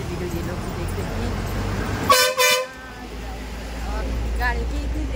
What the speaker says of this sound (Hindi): गाड़ी की इतनी तेज आवाज़ आ रही है, सुनाई नहीं दे रहा है।